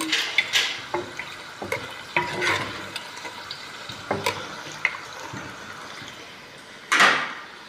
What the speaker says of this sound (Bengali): এই যে উল্টিয়ে পাল্টিয়ে ভেজে নিতেছি।